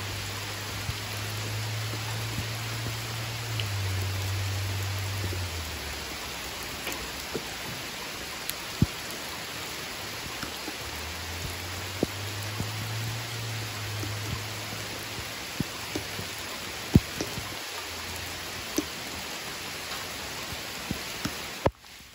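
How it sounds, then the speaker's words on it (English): Steady rain falls outdoors, a dense even hiss with scattered sharper drops tapping nearby, while a low hum swells and fades twice in the background. "Not gonna be able to do it in the rain."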